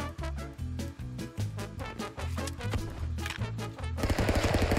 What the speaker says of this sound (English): My gun's faster than yours.